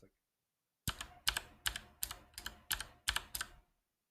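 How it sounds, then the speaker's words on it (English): Keystrokes on a computer keyboard while coding, heard as seven distinct clicky bursts in an uneven rhythm after a short silence, close and crisp against a quiet background. "ASMR coding is the sound of the keyboard"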